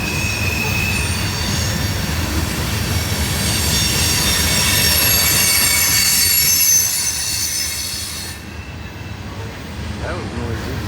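A loaded CSX grain train rolls southbound toward a rail yard, its wheels squealing loudly and continuously over a steady rumble of cars, then the noise eases and thins toward the end.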